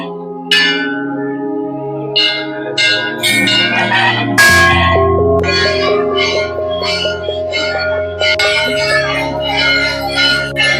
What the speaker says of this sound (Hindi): यहाँ पे यकीन मानिए करोड़ों करोड़ों घंटियाँ हैं